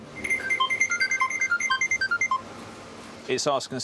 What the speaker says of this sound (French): Aussitôt, l'alarme sonne.